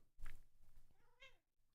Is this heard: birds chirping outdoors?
no